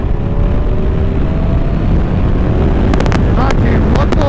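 A Kawasaki Ninja 1000 SX sport tourer pulls in sixth gear from about 4000 rpm, its faint engine hum mostly buried under heavy wind roar with a few sharp buffeting bursts near the end.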